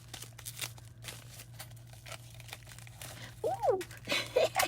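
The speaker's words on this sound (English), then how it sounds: "let me go ahead and use the scissors on this because I really have no idea what's in here" Scissors cut open a crinkly plastic package, giving soft crinkling and snipping sounds at close range, growing louder near the end, with a steady low hum beneath and brief vocal sounds.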